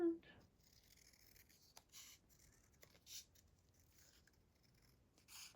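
Scissors snip through paper or vellum for an embellished envelope, with a few soft, close cuts spaced a second or so apart over a quiet room.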